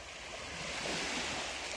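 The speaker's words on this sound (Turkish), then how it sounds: "Kefales plajındayız şu an." Sea waves at Kefalos beach on Gökçeada, a sandy shore with clear water, wash in a steady broadband surf roar with a touch of wind, close and continuous with no talk.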